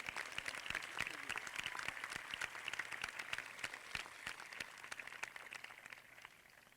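Applause from a crowd at a 2017 Kinnelon High School graduation ceremony, a faint, distant patter of clapping that holds steady for several seconds.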